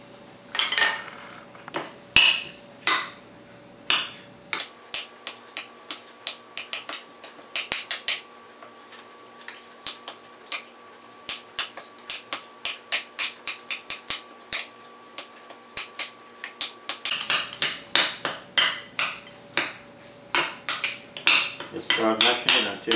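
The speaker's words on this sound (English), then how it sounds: "Just start mashing it until it's really mixed good." A fork mashes avocado for guacamole in a bowl, giving bursts of sharp, rhythmic taps and scrapes on the bowl, separated by brief quiet pauses, with a faint tone in the background.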